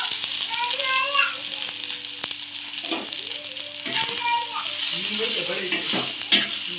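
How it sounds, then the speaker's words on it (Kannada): Okra fries in a pan with a steady, bright sizzle and occasional stirring scrapes and rattles while children's voices chatter in the background. "ಕೆಂಪಗೆ ಆಗೋವರೆಗೂ ಫ್ರೈ ಮಾಡ್ಕೊಳ್ಳಿ"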